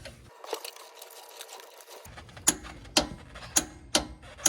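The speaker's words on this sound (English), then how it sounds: "So we're going to grab the torque wrench." A torque wrench tightening a steering stabilizer bolt on a 2017+ Ford Powerstroke truck to 67, a series of close, sharp ratcheting clicks evenly spaced about half a second apart after a short quiet pause.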